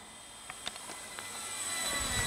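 A Durafly T-28 Trojan USMC 1100mm RC model airplane flies in wind, its motor a faint, distant steady whine that swells slightly toward the end, with a few small clicks near the start.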